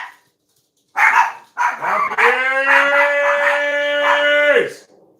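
Several dogs howl together in a long, sustained, wavering chorus, with a few sharp barks leading in before the howl swells and holds loudly, then cuts off.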